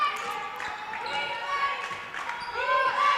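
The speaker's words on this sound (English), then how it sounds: "you could hear that ball bouncing" Basketball bouncing on a gym court during a varsity girls' high school game, heard amid steady crowd murmur and voices in a large, echoing gymnasium.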